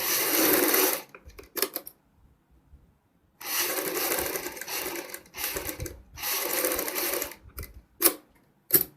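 A sewing machine runs in several bursts while stitching a wide seam on a kurti's front neck, with short whirring runs broken by brief pauses and small clicks.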